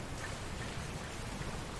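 Rain falling in Dragon Quest Builders 2, a constant even hiss of raindrops with a soft low patter, no voices and no breaks.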